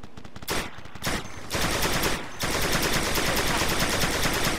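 Machine gun fire in the military shooter Operation Flashpoint: Red River, loud sustained automatic bursts broken by a few short pauses, close and dense with no talking.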